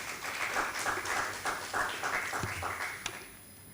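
Applause from a conference audience at a plenary session on regenerative ecosystems, a dense steady patter of many hands lasting several seconds at moderate distance, fading slightly toward the end.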